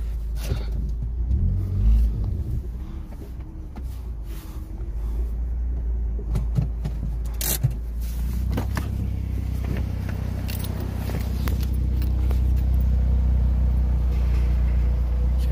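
A Suzuki Swift ZC31S turbo car with a blown head gasket rumbles as its engine idles and moves forward, with scattered clunks and knocks and a rising low drone.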